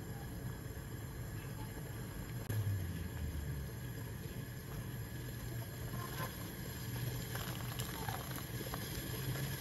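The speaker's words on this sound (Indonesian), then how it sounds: "Kalau sudah betul-betul mendidih seperti ini, matikan api." Liquid pudding mixture bubbles steadily in a pot, a soft continuous gurgling and popping at close range with a low background rumble, no voices.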